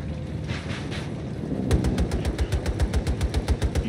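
Rapid automatic gunfire from a video game shooter, a fast even burst of sharp repeated shots following a rumbling lead-in, loud and close with no voice over it.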